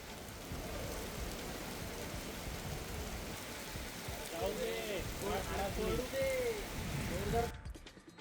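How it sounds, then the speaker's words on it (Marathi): Steady heavy unseasonal rain hisses throughout in Raigad, Maharashtra, with a voice talking faintly underneath and brief bird-like chirps near the middle. "विजांच्या कडकडाटासह अवकाळी पावसानं जोरदार हजेरी लावली"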